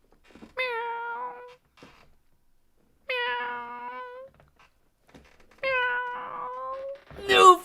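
A pet cat meows three times in long, drawn-out, clear calls spaced a couple of seconds apart, close and alone in an otherwise quiet room, with a faint rustle at the end.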